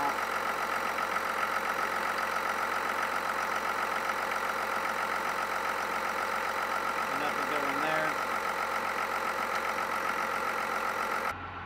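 2024 Chevrolet ZR2 with a 3.0 Duramax diesel and a new PPE charge air cooler idling just after start-up, a steady close mid-pitched diesel clatter and hum holding even for the whole stretch.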